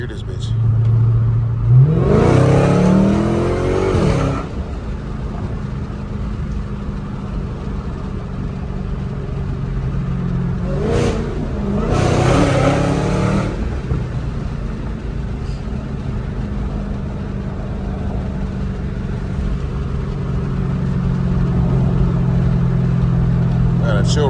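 Dodge Hellcat with a loud aftermarket exhaust revving hard in two bursts, a long roaring climb early on and a sharper double rev later, between stretches of rumbling idle, with people talking over it.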